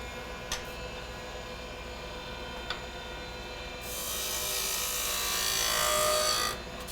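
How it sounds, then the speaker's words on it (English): Skew chisel cutting end grain on a spinning wood lathe: a steady low hum with a couple of light taps, then a brighter, louder hissing scrape of the cut lasting about three seconds before it stops. "I'm going to take my skew chisel and clean the end grain"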